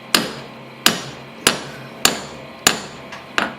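A hammer strikes a pin on a vintage Frost Cutlery and Jaguar folding knife, six sharp metallic taps at an even pace of about one every 0.6 seconds, loud and close, with no talk.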